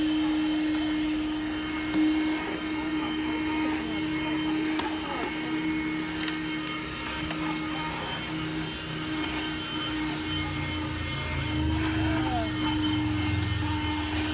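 A 12V 106W handheld car vacuum cleaner runs steadily with a constant whine and airy hum, close by and moderately loud, without pause.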